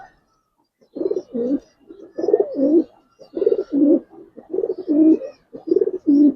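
Silver Giribaz pigeons coo up close in a series of soft, throaty, rolling calls, repeated in rhythmic pairs with short pauses between them.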